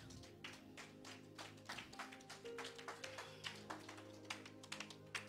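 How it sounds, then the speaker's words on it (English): Scattered hand claps from a church congregation clapping for Jesus during a service, uneven and fairly light, over a low sustained musical hum. "Somebody clap for Jesus."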